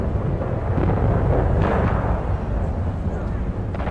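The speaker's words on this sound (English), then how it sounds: "You can hear the gunfire all the time, and it gets louder and louder" Dense, continuous rumbling artillery fire on the Western Front with heavy low-frequency booms, steady and loud throughout, like distant guns pounding without pause.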